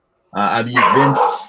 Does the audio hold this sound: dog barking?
yes